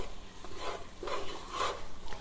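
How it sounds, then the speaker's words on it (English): A spoon or whisk stirring flour into melted butter in a pot, rhythmic swishing strokes with a faint sizzle, close up and without speech. "you want to add your 3/4 cups of all-purpose flour and just stir that for 2 minutes"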